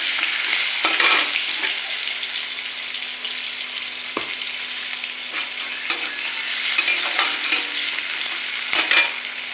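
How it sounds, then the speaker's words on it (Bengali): Onions fry in hot oil in a wok, a continuous close sizzle broken by periodic scraping stirs of the spatula. "পেঁয়াজ একটু ভাজা ভাজা হোক"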